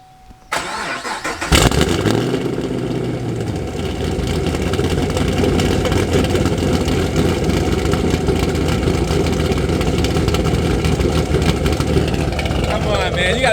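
A track-built first-generation Mazda RX-7 with a 12A rotary engine and a headers exhaust fires up with a sharp start, then holds a loud, steady, raspy drone up close that continues for the rest of the stretch.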